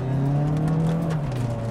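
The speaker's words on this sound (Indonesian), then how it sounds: "suara dari Mazda CX-3 ini bener-bener syahdu, karena juga dia kan emang twin exhaust ya, alias knalpotnya ada 2" A 2024 Mazda CX-3 Pro with twin exhausts accelerates on kick-down in sport mode, its engine note a loud, close, steady drone that climbs slightly in pitch before easing.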